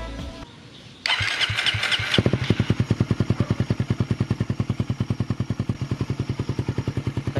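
A Raider 150 Fi motorcycle engine, just fitted with a fuel pressure regulator, cranks and starts, then settles into a steady, close, loud rhythmic idle with even firing pulses and no talking.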